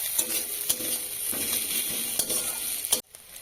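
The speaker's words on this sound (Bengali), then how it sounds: "এরপর মশলাগুলো ভালো করে কষাতে হবে" Spices with dried red chili powder are stir-fried in a pan for an egg pepper fry. A steady close sizzle runs under repeated scraping strokes of a spatula, then cuts off abruptly near the end.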